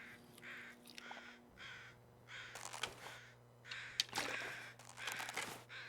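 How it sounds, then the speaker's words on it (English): Crows cawing in the snowy wilderness of The Long Dark video game, a series of repeated harsh caws in short bursts, fairly close and clear over a quiet background with a faint steady hum. "I hear crows."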